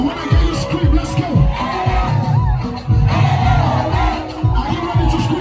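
A crowd at a food and fashion festival in South-East Nigeria yells and whoops loudly in repeated bursts, with an amplified voice cutting in between the screams.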